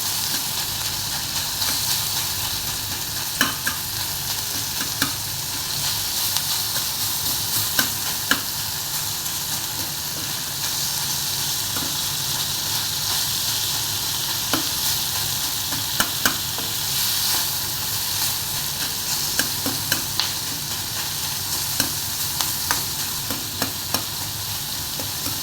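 Chopped onions with salt fry in a pan for a shev bhaji, a continuous close sizzle broken by occasional clicks and scrapes of the stirring spoon over roughly twenty-five seconds.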